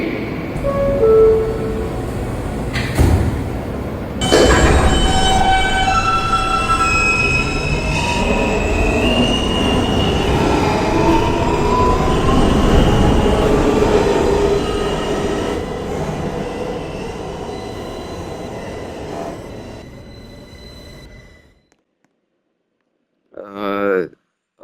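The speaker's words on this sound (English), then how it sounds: "This is a Queens-bound M local train via Court Square." A Queens-bound New York subway M local train, running via Court Square toward 14th Street, rumbles along loudly with rising wheel squeal and rattling cars for about twenty seconds, then drops to silence before a brief voice.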